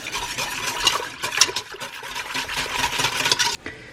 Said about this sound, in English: So now we can whisk it up.